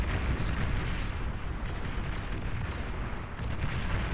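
Bombers strike in the Beyond All Reason strategy game, a dense rumbling wall of overlapping explosions and booms rolling on loud and unbroken, with no speech.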